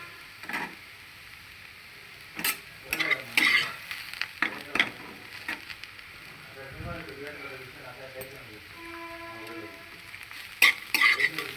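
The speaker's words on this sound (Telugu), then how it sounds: "ఇలా మాడిపోకుండా దోరగా వేయించుకోవాలి" Cabbage frying in a pan, a steady soft sizzle under repeated stirring scrapes and clatters that come in short bursts, with a voice talking at times.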